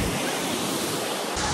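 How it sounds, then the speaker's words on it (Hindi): Loud, steady rushing water on a foggy hillside viewpoint, a dense, unbroken roar that fills the whole moment with no voices over it. "आई थिंक शोर ज़्यादा भी हो रहा होगा पानी का"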